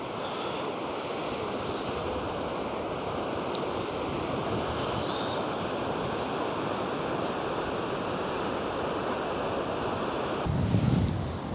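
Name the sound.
Gullfoss waterfall in Iceland roaring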